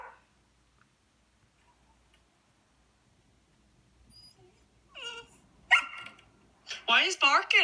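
A dog barks in an outdoor garden by a fence, a few sharp yips rising toward the end after a long near-silent stretch, close and loud.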